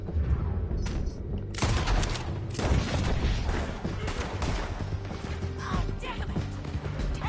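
A gunfight in Red Dead Redemption 2, with a rapid fusillade of sharp gunshots cracking repeatedly amid chaotic game noise and hoofbeat-like clatter, loud and dense throughout.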